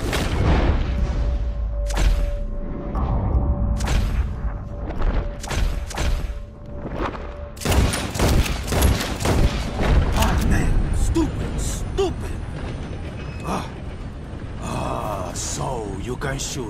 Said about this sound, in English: Whoever shoots four birds out of the sky first wins.